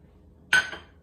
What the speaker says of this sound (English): You're going to add your 3/4 cup of butter